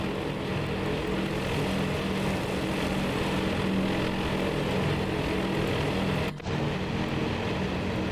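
Steady propeller drone of World War II dive bombers in flight in a naval simulation game, a continuous loud engine roar that holds evenly, with a brief dip near the end.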